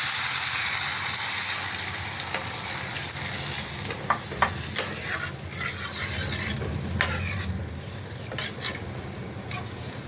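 Spice masala frying in oil in a pan as a little water goes in, a loud sizzle that settles into steady crackling with occasional utensil clinks and stirring scrapes.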